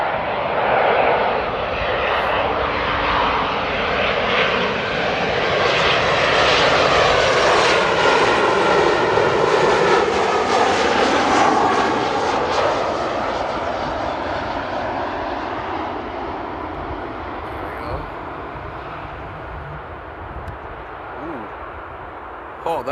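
A jet airliner lands at Amsterdam Airport on a steep approach, its loud engine roar building then slowly fading over about twenty seconds, heard close and steady without talk.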